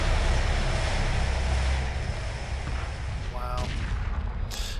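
Battle cruisers fire ion cannons in the Homeworld space strategy game, a dense, rumbling barrage with sharp bursts and whooshing shots layered over a constant roar of combat.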